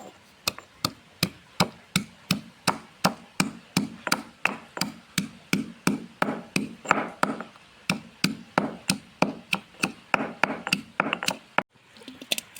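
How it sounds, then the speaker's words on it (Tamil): Sharp, steady knife chops on a cutting board as half a kilo of chicken is cut into small pieces for chicken pakoda, about thirty close, loud strikes in a quick regular rhythm with no talk. "சிக்கனை வந்து நல்லா பொடுசாக கட் பண்ணிக்கிறேன்"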